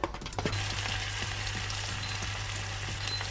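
Chopped onion dropped into melted butter in a pan, giving a sharp burst at the start that settles into a steady, close sizzle with faint stirring ticks.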